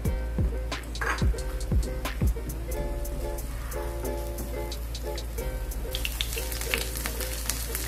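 Onions frying in a pan for Filipino-style blue marlin steak, a soft steady sizzle and crackle at low level, broken by a few clinks and knocks of utensils, no talking.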